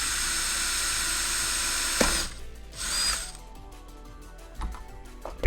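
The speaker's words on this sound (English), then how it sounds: "Can I drill into it, or is it gonna explode again?" A power drill bites into an object during a game-streamed task, a brief whirring burst followed by short bursts and clicks, fairly close, without talk.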